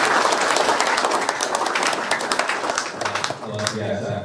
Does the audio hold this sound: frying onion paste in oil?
no